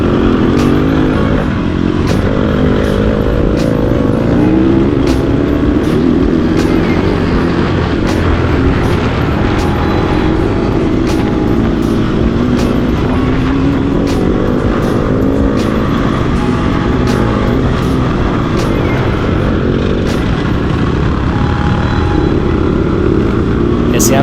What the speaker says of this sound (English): I love the way that Yamaha sounds though. It's got that gritty, low sound